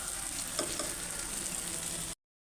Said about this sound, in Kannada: ಈರುಳ್ಳಿ ಇಲ್ಲಿ ತನಕ ಫ್ರೈ ಮಾಡಿದ್ದೀನಿ ಹಸಿ ಹಸಿ ಇರಬಾರ್ದು ಈರುಳ್ಳಿ ನೀಟಾಗ ಫ್ರೈ ಆಗಬೇಕು